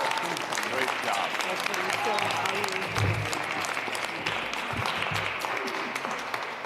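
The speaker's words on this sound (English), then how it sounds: "Let's give her a round of applause." Applause at a tax reform rally with Mayor de Blasio: a dense, sustained crowd clapping that holds steady and loud throughout.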